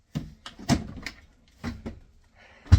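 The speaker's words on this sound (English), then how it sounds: "And pull the door off completely." A fridge door is worked loose and pulled off in a converted school bus kitchen, giving a series of short, sharp clunks and knocks separated by brief pauses, close by.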